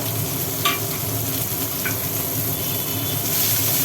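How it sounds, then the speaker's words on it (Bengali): Bay leaf and onion frying in hot oil for a chicken curry, steady close sizzle with a few sharp utensil scrapes as they are stirred, loud and continuous with no talking. "তেজপাতা দেওয়া হলো পেঁয়াজ দেওয়া হলো এবার একটু নাড়বো"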